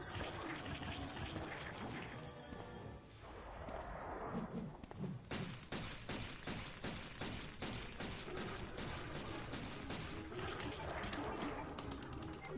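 A handgun fires in Resident Evil 2, first a few scattered shots, then rapid sharp cracks in quick succession over dense game ambience and background noise.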